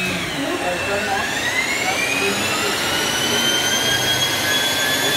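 A Pratt & Whitney PT6A turbine engine starts up, with a loud whine climbing steadily in pitch over a constant roar close by, while someone speaks over it.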